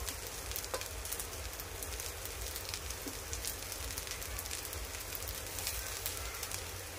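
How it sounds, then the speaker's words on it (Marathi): Whole spices frying with roasted onions for a crab masala, a steady close sizzle and crackle that holds evenly throughout with no talk. "थोडंसं याला भाजून घेऊया अख्ख्या मसाल्यांना"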